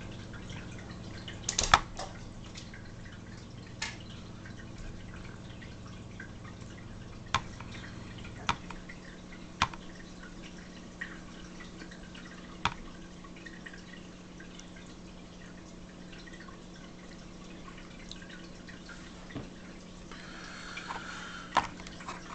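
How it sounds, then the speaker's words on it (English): Water trickles steadily from home fish tanks in the background, a faint continuous wash with a few sharp drips and clicks scattered through it. No one speaks. "If you hear the water running in the background, that's the fish tanks."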